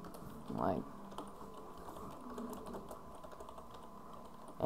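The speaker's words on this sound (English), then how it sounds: "I'll just type" Keyboard typing at a computer during a library search, a burst of quick keystrokes early on and another at the very end over a low steady room hum.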